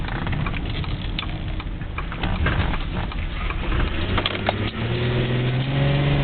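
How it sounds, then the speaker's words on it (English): A 2008 Ford Edge with transmission trouble has its gas pedal floored, and the engine gives a loud, steady roar from close by, with a rising drone building near the end and no talking. "I've got the engine clear to the floor."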